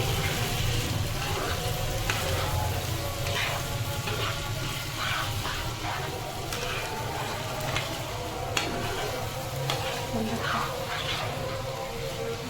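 Prawns frying in a pan during home cooking, a steady broadband sizzle with stirring scrapes running throughout at close range, with occasional voices in the background.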